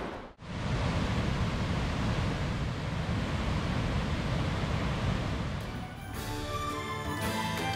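A waterfall in a Norwegian national park roars as a dense, steady rush of water close by, keeping a constant level through most of the stretch before thinning slightly near the end.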